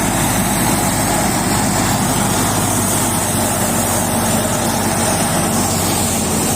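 A tractor engine runs steadily during the wheat harvest, a loud, continuous mechanical drone with heavy low rumble and no pauses, no voices over it.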